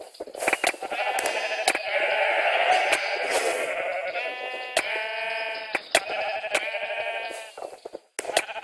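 Minecraft sheep bleating repeatedly in a Sheep Quest minigame, several overlapping blocky bleats in quick succession with sharp clicks and game blips between them, fairly loud and close.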